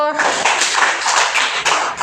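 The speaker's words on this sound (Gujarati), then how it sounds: "તાળી પાડો બધાય" A group of children clap their hands together during a classroom fruit-naming game, producing a run of quick, fairly loud claps mixed with voices.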